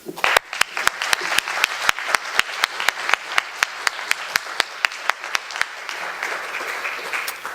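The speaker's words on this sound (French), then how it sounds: "Je voudrais qu'on vous applaudisse." An audience at an association meeting applauds, close and loud, with sharp distinct claps landing in a quick, fairly regular rhythm that thins out toward the end.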